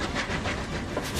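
A replica Rocket steam locomotive, an early intercity express engine, pulls away under full steam with a steady chuffing rumble, hiss and rhythmic rail noise, moderately loud and with no talk.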